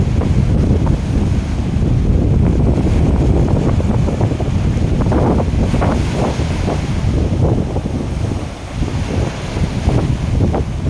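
Sea waves wash onto a shore while strong wind buffets the microphone in a constant loud roar, with surges of surf rising and falling.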